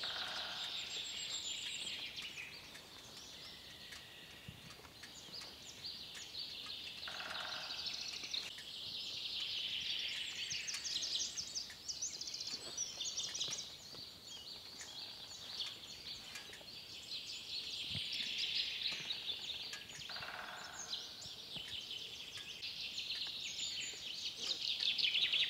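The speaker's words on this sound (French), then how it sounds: "On entend des oiseaux dans tous les sens, c'est magnifique." Wild birds singing in the cedar forest of Ifrane National Park, Morocco, scattered chirps and trills coming from all directions, fairly distant and soft over quiet forest ambience.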